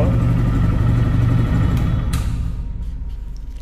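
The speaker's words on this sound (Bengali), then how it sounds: "একটা বাইক জিরো কিলো চলার সাউন্ড যেরকম হুবাহ এরকমই" A second-hand TVS Raider 125cc motorcycle in showroom condition runs close by with a deep, even engine thrum that gradually fades in loudness toward the end.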